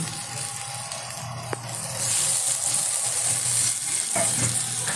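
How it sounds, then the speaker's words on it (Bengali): Mutton with sour yogurt sautéing in a pan, a steady close sizzle with faint stirring scrapes and a brief clink, growing a little louder partway through. "এবার ভালোভাবে আমি এটা কষিয়ে নেব"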